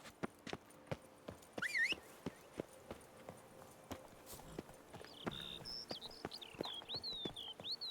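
Roach, a horse in The Witcher 3, clip-clops in a steady walking rhythm of sharp hoof strikes, with a brief swoosh early on and a high chirping tone, like birdsong, over the second half.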